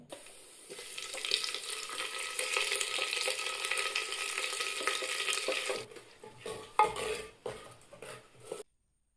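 Ground spice paste hits hot mustard oil, tempered with garam masala and bay leaves, in a clay handi for chicken, a steady close sizzle that gives way to clattering, scraping stirring strokes against the pot.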